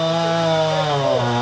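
A chainsaw cuts into a big storm-damaged tree in Alabama, its engine drone loud, close and steady, the pitch dipping slightly as it bites into the wood.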